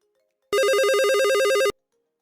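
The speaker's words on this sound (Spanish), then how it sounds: "del otro lado un celular suena" Cell phone rings with a single bright electronic burst of rapidly warbling tones that lasts just over a second and stops abruptly, loud and clear against silence.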